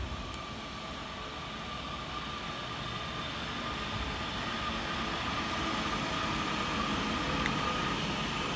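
A Northern class 331 electric train arrives at Heaton Chapel station, a steady low rumble and rolling rail noise with a faint whine, building gradually and holding close and continuous.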